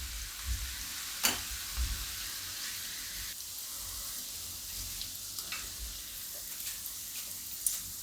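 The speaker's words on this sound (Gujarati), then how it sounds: "એકદમ સરસ કડક થાય ત્યાં સુધી આપણે આને તળવાનું છે." Okra fries in hot oil in a kitchen, a steady soft sizzle and crackle with a few sharper pops and occasional stirring clinks, fairly quiet and without talk.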